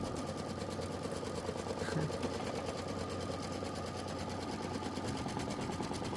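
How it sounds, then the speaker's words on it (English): An embroidery machine sews a placement outline stitch on fabric for a patchwork flag block, a steady rapid mechanical whir running continuously and evenly throughout, close and moderately loud. "That is the outline stitch, the placement stitch for the fabric."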